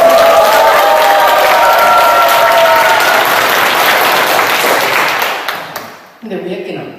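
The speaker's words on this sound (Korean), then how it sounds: "그분한테도 감사하다는 박수 한번 쳐드리고." Loud applause and some cheering from a lecture audience fill the room, then die away over the last seconds as a few scattered claps and thumps remain.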